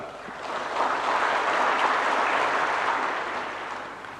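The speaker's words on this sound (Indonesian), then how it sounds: "Jangan terlalu cepat tepuk tangan." An audience of teachers applauds at a briefing given by Prabowo, a dense, steady wash of clapping that swells in, holds for several seconds, then tapers slightly toward the end, with no talk over it.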